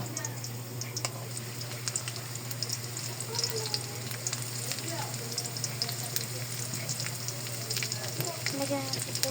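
Fish frying in a home kitchen pan, a steady bright crackling sizzle that runs the whole time under a constant low hum, with people chatting nearby.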